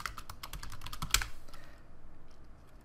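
A computer keyboard is typed on in a quick burst of light, close keystrokes for about a second and a half, followed by a couple of scattered taps and quiet room tone.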